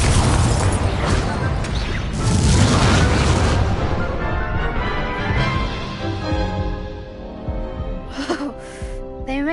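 Incendio fire spell blasting in Hogwarts Legacy: a loud roaring burst that sustains for several seconds, then fades into softer crackles and a few faint vocal sounds.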